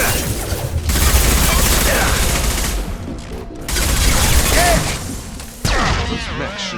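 Bursts of gunfire in the game Mass Effect Legendary Edition, rapid rattling volleys and blasts in a busy combat mix, with brief gaps between salvos and occasional voices.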